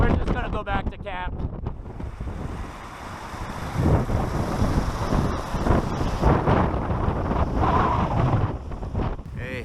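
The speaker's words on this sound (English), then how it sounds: "too cold, too windy up there." Heavy, cold wind on a mountain hike buffets the microphone with loud, rumbling gusts throughout, and faint voices come through under the roar.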